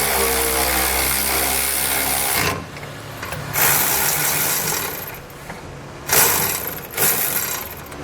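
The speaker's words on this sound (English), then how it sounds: "Now what we're able to do is tighten down all three of those nuts that we just installed" Nuts being tightened down on an Air Lift LoadLifter 7500 XL helper spring install on a 2014 Ford F-250, heard as a steady mechanical hum followed by several short bursts of power-tool or ratchet driving, close up.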